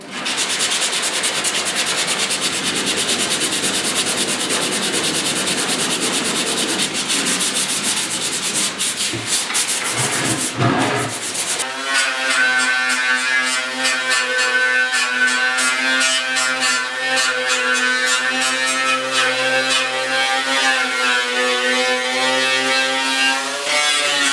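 Grinding and sanding on the cab of a 1972 Ford F100 4x4 as a fiber disc strips off paint, a loud continuous abrasive rasp that shifts midway into a steadier, humming grind and runs without pause.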